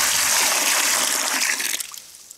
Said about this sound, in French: je vais mettre 5 à 6 litres d'eau